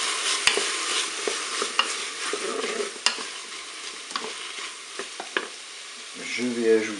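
Chicken browns in a Cookeo multicooker pot on its browning setting, a steady sizzle broken by sharp utensil clicks and stirring scrapes, ending with a short rising electronic beep tone.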